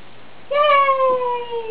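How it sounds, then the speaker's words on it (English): A single clear, drawn-out cat meow sounds up close, its voice sliding gently downward and fading, after a short quiet stretch over a low steady hum. "The cat's fine."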